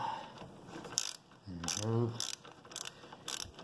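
A ratchet tool works the oil drain plug on a 50cc Boom scooter engine, sharp ratcheting clicks in short bursts up close, with brief talking mixed in.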